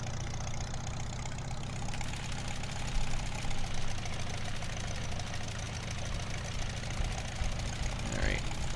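Older tractor engine in Farming Simulator 15 during classic cultivating, a steady mid-low drone running continuously at moderate level with a small rise near the end.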